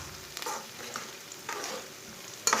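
Onions browning in a pan while a spoon stirs them, short scraping strokes over a soft frying sizzle, ending with a sharper clack.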